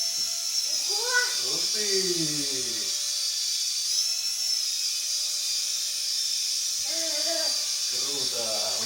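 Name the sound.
flying Minion toy helicopter propeller whirring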